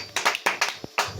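A church congregation claps in a quick, uneven burst of a few sharp hand claps, close and fairly loud, lasting only about a second.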